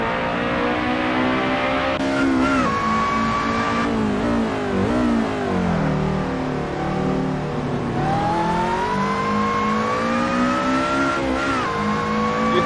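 Race cars lap Vallelunga in the Assetto Corsa racing game, engines screaming and revving up through gears, dropping under braking for corners, then climbing again, loud and continuous with several cars close together.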